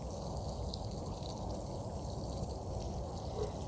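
Water streaming excessively out onto the ground outdoors at night, a continuous rushing pour with steady trickling texture, close and unbroken with no talking.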